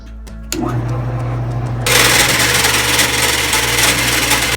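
A power tool starts with a hum, then bites into a metal angle strip with a loud, harsh grinding screech that continues steadily to the end.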